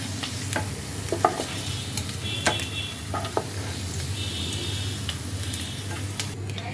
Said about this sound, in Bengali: এভাবে হালকা লালচে করে ভেজে নেব পনিরগুলো।